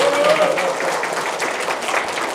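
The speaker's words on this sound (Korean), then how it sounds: "박수 한번 쳐주십시오." Audience clapping at a book concert for a local candidate in Chungju, South Korea, is heard as a sustained, fairly loud wash of applause, with a faint tonal sound at the start.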